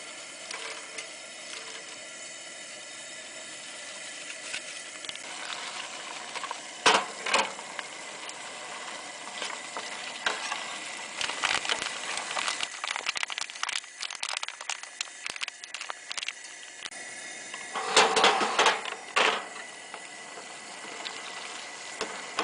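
Pork, vegetables and noodles are stirred in a metal mess tin on a riverbank, with scattered scraping and clinking over a constant outdoor hiss and a denser flurry of scrapes near the end.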